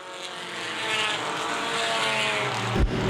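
Compact touring race cars screaming side by side down the front straightaway at Winchester Speedway, a loud sustained high-revving engine wail with shifting pitch and a brief thump near the end.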